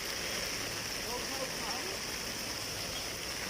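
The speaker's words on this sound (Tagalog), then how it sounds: "Lakas na naman ang ulan." Heavy rain pours down on a street lined with parked vehicles, making a steady, even hiss with no pauses throughout.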